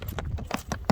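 Horse hooves clip-clop at a walk in a short burst of several uneven strikes, close and moderately loud with faint background noise.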